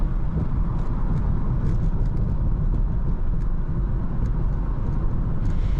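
A Toyota Mark II JZX100 sedan with a non-turbo 1JZ-GE inline-six cruises along, heard from inside as a steady low engine drone and road rumble with constant tire noise, no talk.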